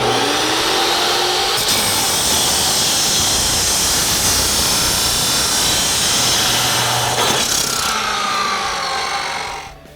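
A power saw cuts through a clamped front exhaust pipe for a 2021-2022 Ford F-150 single exhaust system, a loud steady whine and grind running continuously for about ten seconds, with a brief shift in tone near the start and again near the end.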